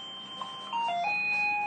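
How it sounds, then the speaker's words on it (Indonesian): A mini ATM piggy bank toy sounds its alarm, a short electronic melody of clear beeping tones that plays close and moderately loud, lasting under two seconds. "Alarm akan berbunyi setelah kita menabung."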